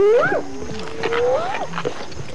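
Hyena calls in the African wild: eerie rising and falling whoops and wavering cries, several in succession, fairly close and loud with no talking.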